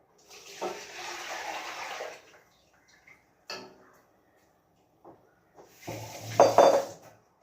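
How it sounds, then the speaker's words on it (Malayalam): Buttermilk poured into a bowl for KFC-style chicken, a steady liquid splash lasting about a second and a half, followed later by clinks of a utensil against the bowl. "ഇനി നമുക്ക് ആ മോരൊഴിച്ചു കൊടുക്കാം"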